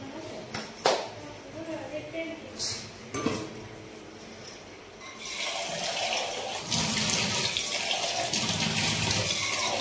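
Water runs steadily from a tap, growing louder and fuller in the second half, with a few clinks and a voice talking early on.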